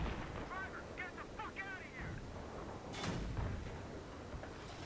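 Gunfire and explosions ring out at a tank in the video game Battlefield 3, with rumbling blasts and bursts under a player's speech and a sharp loud impact near the middle.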